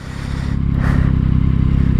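A motorcycle engine drones loud and steady while riding at highway speed, a strong low rumble building slightly over two seconds with a brief rush of wind noise, no talk.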